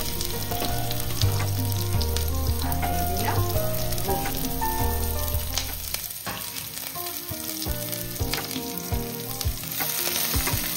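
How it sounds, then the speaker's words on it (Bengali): Onions frying in oil with dried chilies until reddish, a loud, dense, continuous sizzle with scattered spatter crackles, accompanied by background music with tonal notes throughout. "এটাকে লাল লাল করে ভেজে নেব"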